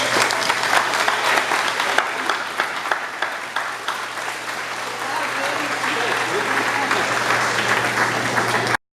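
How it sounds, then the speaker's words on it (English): At an outdoor opening ceremony celebrating Hartland, New Brunswick's 100 years, a crowd gives a sustained round of applause, dense and steady, with voices mixed in beneath it and a constant low hum, ending abruptly. "Give yourselves a big round of applause."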